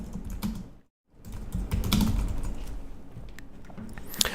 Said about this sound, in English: I can type in the topic, and the topic box is just a free-form text field here, so I can type in whatever I like